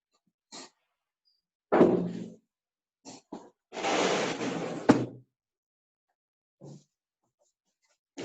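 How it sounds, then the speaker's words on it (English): A door is shut nearby indoors, giving a few separate knocks and bumps, then a longer sliding scrape that ends in a sharp thud, with short quiet gaps between the sounds. "I'm just going to shut a door over here."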